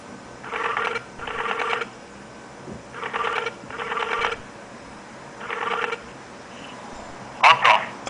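A smartphone on speakerphone plays its outgoing ringing tone: five evenly spaced beeping bursts, each about half a second long, clear and close, before a brief higher chirp at the end.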